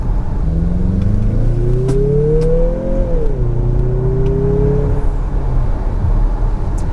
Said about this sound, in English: Just a beautiful sound from the turbo engine as well